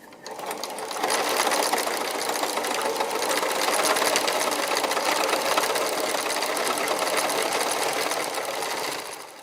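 A sewing machine stitches steadily with grey thread, its rapid mechanical chatter running loud and unbroken for most of the stretch, starting after a brief quieter moment.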